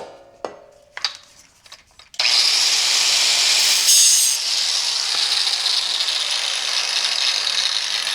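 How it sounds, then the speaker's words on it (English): Power saw cutting relief cuts into a scrap metal bar, a loud sustained harsh grinding whine that starts abruptly after some clanking and runs steadily to the end. "Make the relief cuts, bend it down"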